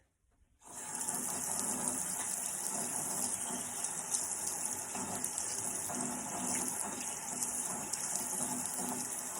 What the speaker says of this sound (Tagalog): Rinse the instrument with the use of sterile water and make sure that the chemical use is completely removed.